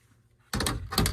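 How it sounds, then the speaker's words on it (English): An HVAC return panel in a basement drops loose once its top screw comes out, landing as a sudden loud clatter after a quiet start, followed by a second rattling bump. "this whole return's gonna fall when I take this top screw out"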